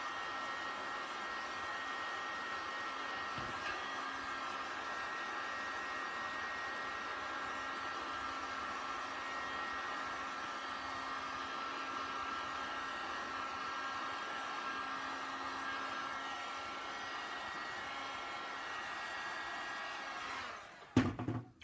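A heat gun blows hot air onto excess plastic of a homemade upper-limb prosthetic socket. Its loud, even whirring roar holds steady for about twenty seconds, then cuts off with a short clatter.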